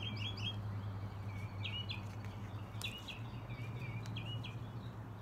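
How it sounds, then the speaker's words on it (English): Birds chirp in short bursts of repeated tweets at a distance outdoors in a garden, faint over a steady low hum, with no talking. "Hear the beautiful birds in the background?"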